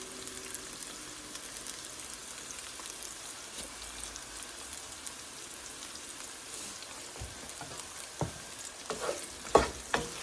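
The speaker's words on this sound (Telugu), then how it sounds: "వేగడానికి హై ఫ్లేమ్లోనే పెట్టుకోండి." Brinjal pickle fries in a pan over a high flame, a steady close sizzle and crackle with occasional louder clinks and stirring taps near the end, no talk.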